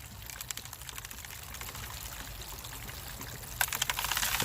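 Water rinsing gravel and dirt through a gold sluice box outdoors, a steady rushing, trickling wash that swells louder near the end.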